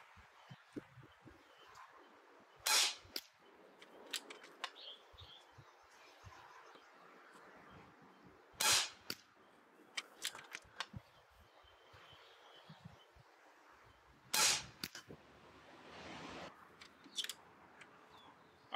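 Three sharp, loud reports from a Kervan Arms AirBoss K2 PCP airgun firing JSB Exact Jumbo 15.85 gr pellets at a 55-yard target, spaced several seconds apart, with faint handling clicks and shuffling between the shots.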